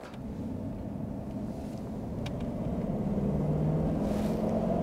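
A 1990 Mercedes-Benz 500 SE W126 with its V8 engine pulls along quietly, a smooth, even low rumble that grows gradually louder as the car picks up speed.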